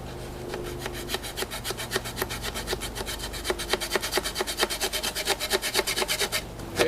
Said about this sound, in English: I just want to take my multi-tool, my saw, and I'm going to cut a section off here